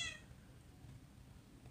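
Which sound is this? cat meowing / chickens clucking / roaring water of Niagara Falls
cat meowing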